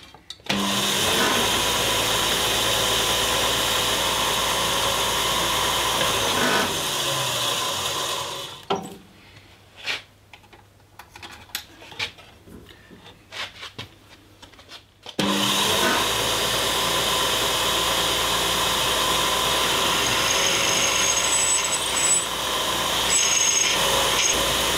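Power drill boring through dissimilar metals after a pilot hole, a loud steady grinding whine that runs for about eight seconds, drops out to quieter scraping and clicks, then returns equally loud and sustained.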